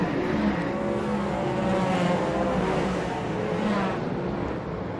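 Race cars, World 240s, lapping the oval at Paradise Valley Speedway, engines droning loud and continuous with overlapping roars as several cars pass, no talk over it.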